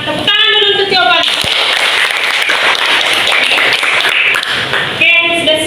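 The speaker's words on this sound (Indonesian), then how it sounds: "Tepuk tangan dulu untuk jawabannya." A sixth-grade classroom bursts into a burst of dense, even group clapping for a student's answer, lasting about four seconds, with a teacher's voice speaking briefly just before and after.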